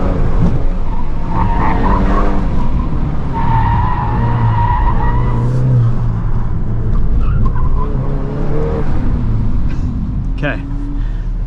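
A 2025 Volkswagen Golf R oversteers on a track, its tires squealing in long wavering screeches over the steady engine drone, loud and close for about eleven seconds, with excited voices talking over it.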